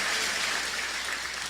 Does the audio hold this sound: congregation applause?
yes